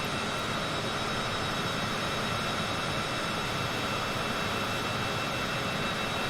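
A Citation CJ4 business jet in flight in Microsoft Flight Simulator 2020 produces a steady, dense jet-engine roar, continuous and unchanging with no voices.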